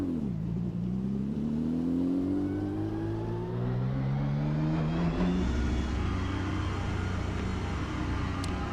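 A race car in the AMS2 sim leaves the pit at Monza, its engine revving up through several rising gear pulls with a rising whine, then settling into a steady loud drone.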